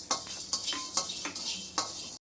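Chana dal roasting in a pan, stirred in repeated scraping strokes with a spatula, about a stroke every half second, close and moderately loud with a dry rattle and faint sizzle, no voices.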